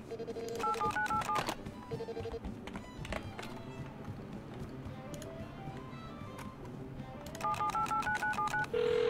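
An in-game telephone at the Airfield in Rust rings and beeps as it dials, giving sequences of short, clear electronic tones that repeat at the start and the end, with faint game sounds between them.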